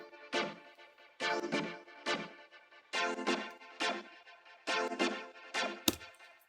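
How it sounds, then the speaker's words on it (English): A synth stab built from five instruments layered together, in a Splatoon-style battle loop, hits seven times in a syncopated rhythm. Each short, bright burst is loud and close and decays quickly, with no voices. "So what I did from there was I created this stab sound."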